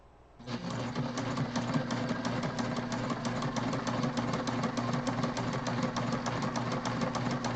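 Sewing machine top stitching a backpack, starting up abruptly and then running as a fast, steady mechanical chatter close by with no talk.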